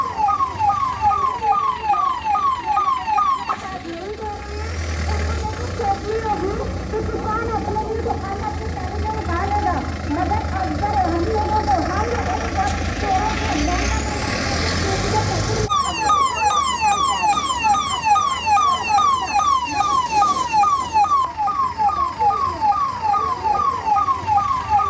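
An ambulance stuck in traffic held up by a protest in India wails its siren in a fast repeating yelp, fading into heavy traffic rumble midway and then returning loud and close, with voices talking underneath.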